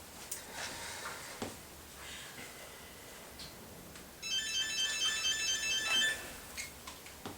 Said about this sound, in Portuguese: Vou dar um toque no Gregory